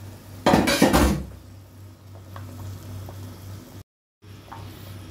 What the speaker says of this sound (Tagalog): Ngayon, idadrop na natin yung ating pinipritong isda.